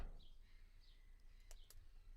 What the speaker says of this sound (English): Can you hear the birds? Isn't that nice? We've loads of birds around here.